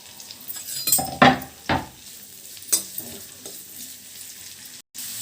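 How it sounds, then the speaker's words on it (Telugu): Onion and green chillies tipped into hot oil for a spicy egg fry tempering, with sharp metal clanks of a spoon against the pan, then a soft ongoing sizzle and occasional stirring scrapes. "ఆయిల్ కాగింది ఎర్రగడ్డ పచ్చిమిర్చి రెండు వేస్తున్నానండి"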